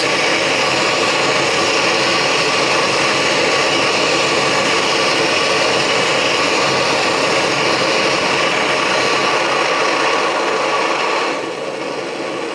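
An Optimus Nova liquid-fuel camping stove burning at a simmer, giving a steady, loud, close broadband roar and hiss that eases slightly just before the end, with no voices.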